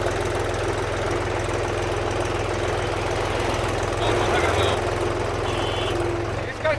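A tractor engine runs steadily on the Koolimadu bridge, a constant low mechanical drone with a brief louder surge near the end.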